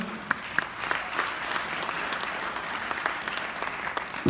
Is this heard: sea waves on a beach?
no